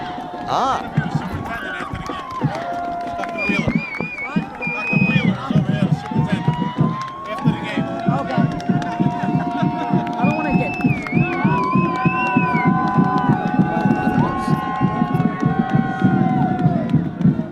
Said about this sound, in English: And this crowd is certainly giving their appreciation right now.